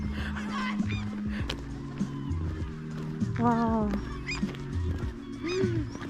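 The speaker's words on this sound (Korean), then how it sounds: "갈매기가 엄청 많은" Many seagulls call at a northern Norwegian shore in Tromsø during the summer midnight sun, their honking cries rising repeatedly over the space while people talk and exclaim nearby.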